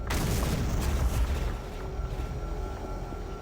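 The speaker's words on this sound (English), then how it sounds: "Everything's exploding." Explosions rumble through a Doom 3 game session with a graphics mod, a dense, loud low boom that swells and rolls continuously with no clear breaks, fading slightly toward the end.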